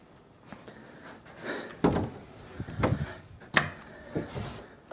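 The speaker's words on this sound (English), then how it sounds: "Closing this door, just to prove there's shit going on." A door in a house thuds and knocks several times in irregular, fairly close bumps, including a couple of sharper slam-like hits, with quieter creaks and rustles between them and no speech.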